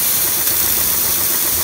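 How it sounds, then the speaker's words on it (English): Steam blasts from the nozzle of a Nespresso milk frother in a coffee shop, a loud, steady, close hiss with no pauses and no talking. "press the top button and let the steam come out."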